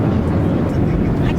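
Cabin noise on an airplane in flight gives a steady, loud, low engine drone throughout, with faint voices underneath.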